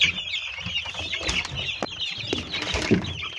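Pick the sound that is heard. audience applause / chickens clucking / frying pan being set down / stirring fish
chickens clucking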